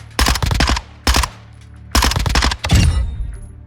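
Submachine gun fire in Modern Warfare 2 at long range, heard as four loud, tight bursts of rapid shots separated by short pauses, the last burst trailing into a brief echo.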